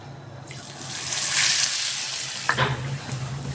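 A semolina-stuffed sandwich dipped in besan batter fries in hot oil; the sizzle swells loudly and close, then settles into a steady crackling hiss with a sharp spatter near the end.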